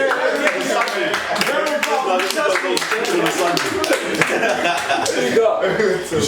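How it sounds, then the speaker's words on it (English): A few people clap in sharp, uneven bursts amid chatter and laughter during a casual talk-show conversation, the claps landing close and loud between overlapping voices. "Clap for the chicken."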